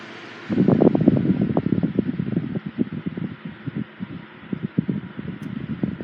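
A 1980s Sanyo 9-inch oscillating electric fan whirs steadily with a fluttering, uneven rattle pulsing through it, close by and fairly quiet.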